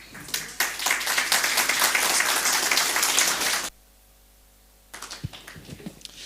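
Applause at a Sunday church service, dense rapid clapping from a congregation for several seconds that cuts off abruptly into near silence, then scattered single claps return.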